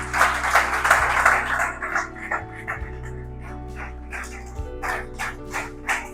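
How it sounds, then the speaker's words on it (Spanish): A church congregation breaks into a burst of applause at the start, which quickly thins out and fades. Scattered noises and a low steady hum continue afterward. "Vamos a darle un aplauso al Señor, bienvenida."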